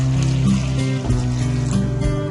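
Water poured into a kadai over a fire for boiling whole moong dal, a steady splashing pour with a low resonant hum beneath, loud and close.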